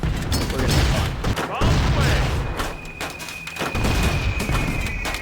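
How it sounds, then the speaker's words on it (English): Bombs explode in a World War II bomber flight game, with a dense run of deep booms and thuds layered over steady engine drone. Someone talks over the blasts. "Man, that's a lot of bombs."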